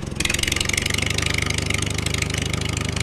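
An old tractor engine runs close by, throbbing in a steady, rapid rhythm at a constant loud level.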